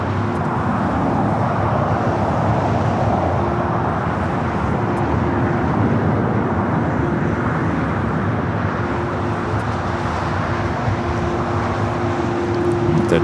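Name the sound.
Delta Airbus A350 taking off at LAX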